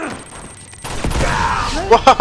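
A grenade explosion in Uncharted gameplay: after a quiet stretch a loud blast hits and rumbles on, followed by sharp impacts, with a voice shouting over it.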